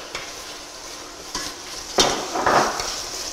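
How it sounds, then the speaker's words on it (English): Ground ginger and garlic stirred into a hot pan for chicken and bacon pasta, a soft sizzle with scraping spoon strokes and a couple of sharp knocks against the pan. "Okay, stir that in"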